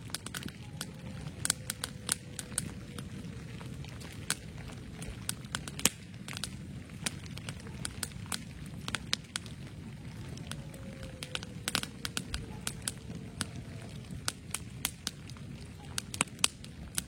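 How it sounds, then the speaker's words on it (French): Coyotes howling far off at night in a winter forest, two faint drawn-out gliding cries, with close campfire crackles snapping throughout. "vous entendez au loin les coyotes."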